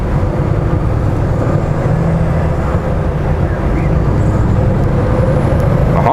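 Inside the cab of a Volvo FH truck during acceleration, a steady loud low engine rumble holds with road noise and no sharp changes.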